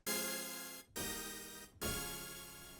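A thick, buzzy, detuned layered synthesizer tone on a KORG KRONOS with a wavering, out-of-tune quality, struck three times as sustained notes of about a second each, with no voices.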